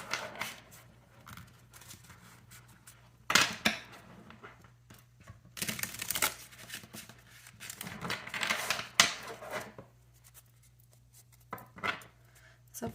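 Papery riffling and soft slaps of cards being shuffled in several short bursts, separated by quiet pauses and light handling clicks.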